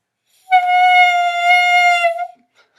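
A reedy clarinet tone from just the mouthpiece and barrel, with a dry reed, is held steady for about two seconds on a single pitch, then stops. It is bright and buzzy, with no other sound around it.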